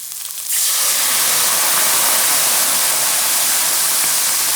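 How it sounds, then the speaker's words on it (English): Dry white wine, a Sauvignon Blanc, hits a hot pan to deglaze it, bursting into a loud, dense hiss after a brief pause and sizzling steadily and evenly throughout. "Now, that's starting to deglaze the pan and get all those little brown bits off the bottom."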